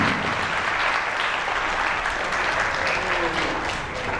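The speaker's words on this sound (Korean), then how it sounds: "박수." A youth camp audience at a church lecture breaks into applause, a steady wash of many hands clapping that holds for several seconds and tapers slightly at the end.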